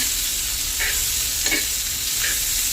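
Bitter gourd pieces roast in a little oil in a pan, a constant close sizzle with a few soft stirring scrapes at intervals.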